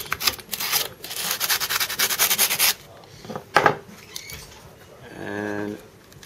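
Rough sanding strokes around the edge of scooter deck grip tape rasp back and forth in quick bursts, close and fairly loud, followed by a brief pause and a softer scraping pass.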